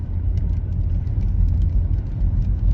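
Inside a moving car on a rainy day, a loud, steady low road rumble and engine drone fill the cabin without a break.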